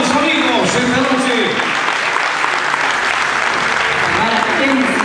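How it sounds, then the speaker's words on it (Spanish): A crowd at the 2013 spring queen coronation in Arica gives loud, dense, continuous applause, with cheering voices mixed in throughout. "¡Un aplauso!"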